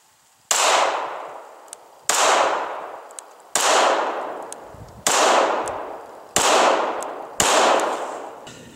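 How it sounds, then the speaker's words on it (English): Six sharp pistol shots ring out at a steady pace of roughly one every second and a half, fired at a target 5 yards away, each loud crack trailing off in a ringing echo. "I'm just going to focus on trying to get as accurate shots as I can in sequence"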